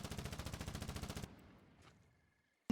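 A rapid burst of automatic gunfire in the war video game Foxhole rattles off in a quick, even string of shots, then cuts off, leaving a faint decaying tail before a brief loud blip at the end.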